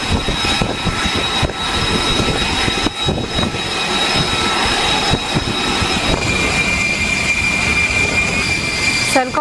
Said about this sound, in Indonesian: persiapan jet tempur siluman F-35B yang akan lepas landas di atas kapal USS Boxer di Laut Arab